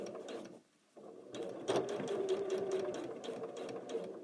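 A sewing machine stitching quilt pieces along a marked line in foundation piecing, a close, steady mechanical whirr that stops briefly, then resumes and runs on continuously.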